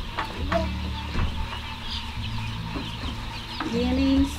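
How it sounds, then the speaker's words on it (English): Chickens cluck and squawk close by in a farmyard, with occasional people talking in the background. "There's our chickens."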